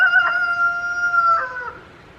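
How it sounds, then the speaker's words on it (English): A rooster crows once, a clear, fairly close cock-a-doodle-doo with a drawn-out middle note that trails off, heard alone with no talking. "Thank you, Rooster."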